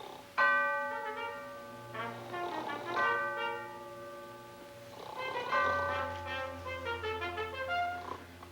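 A ship's bell marking four bells, struck in paired rings whose tones hang and overlap, each pair fading slowly before the next, heard fairly clearly with little else around.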